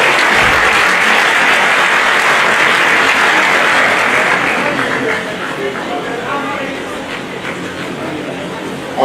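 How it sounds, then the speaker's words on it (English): A large hall audience at a university postgraduate degree award ceremony gives a loud, sustained round of applause for the University of Benin, dense and continuous before easing slightly after the midpoint. "Please let's give the University of Benin a very warm round of applause."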